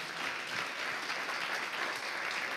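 A church congregation applauding during a service, dense steady clapping from many hands filling the room at moderate level.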